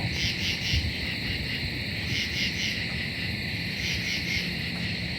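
An eastern screech owl gives repeated trilling calls in short rhythmic bursts over a steady chorus of crickets and insects at night.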